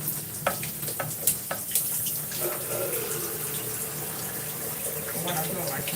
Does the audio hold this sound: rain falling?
no